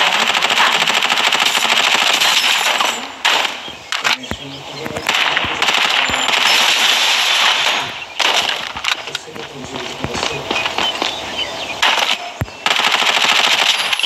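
Gunfire in the battle royale game Farlight 84 comes as loud, rapid automatic bursts broken by short gaps, with game voices heard at times between the shots.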